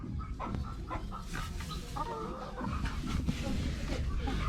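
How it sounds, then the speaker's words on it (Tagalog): Six hens and a rooster kept in a backyard coop cluck softly in scattered bursts at moderate distance, over a low background rumble. "Yan yung mga aking alagang manok."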